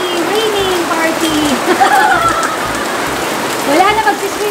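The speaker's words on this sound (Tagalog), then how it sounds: "Oh no! Ang lakas ng ulan!" Heavy rain pours loudly and continuously over an outdoor barbecue and swimming party, a dense steady hiss with people's voices talking and calling out over it.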